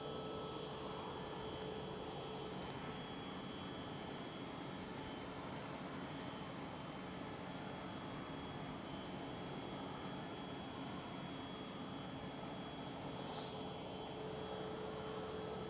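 Jet airliners taxiing at Schiphol airport in Amsterdam, a steady whining engine roar with a faint high tone running throughout, heard from some distance, with no talking.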